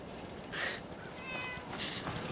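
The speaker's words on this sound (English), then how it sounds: "What, is there a cat?" A cat meows in the Fallout 4 video game, two or three faint, short mewing calls over a noisy hiss of background sound.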